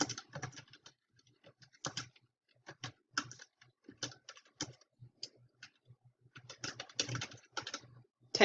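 Typing on a computer keyboard, close and clear: irregular bursts of rapid key clicks separated by short pauses, with no talking.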